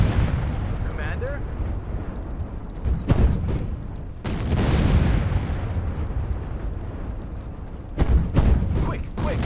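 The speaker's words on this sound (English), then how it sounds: "Artillery ready. Fire." An artillery bombardment in Sudden Strike 2 sends heavy booming blasts through a steady roar of battle, with sharp loud impacts landing at irregular intervals. Voices talk over the din.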